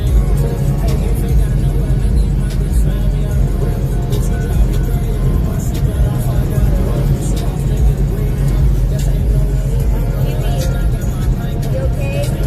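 The Dodger car in a video game drives fast with a loud, continuous engine rumble and road roar, while people talk over it now and then.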